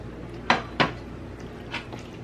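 Buttered macaroni being stirred in a pot, a few distinct metallic clanks of the spoon against the pot in a quiet kitchen, no talk during the stirring.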